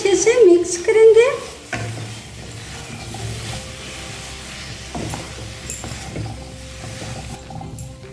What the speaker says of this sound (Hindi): अब इसमें डालेंगे बॉईल किया हुआ आलू। मसाले में आलू को अच्छे से मिक्स करेंगे।